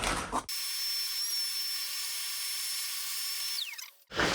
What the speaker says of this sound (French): Je vais remettre un coup d'aspi pour enlever la merde qu'il y a là-dedans